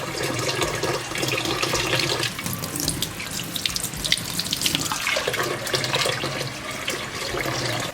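Tap water pours steadily into a cooking pot for Jamaican rice and peas, a continuous broadband rush and splash that stays loud and close throughout with no talking.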